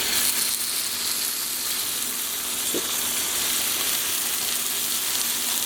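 Salmon fillet sears in a hot pan, giving a steady, even sizzle that fills the whole stretch without pause, close and moderately loud.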